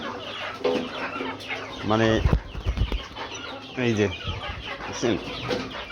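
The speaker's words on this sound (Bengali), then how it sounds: "আমার কিছু মুরগি আছে" Backyard chickens on a small poultry farm in Bangladesh being fed bread, with several clucks and short squawks close by, mixed with a person talking over them.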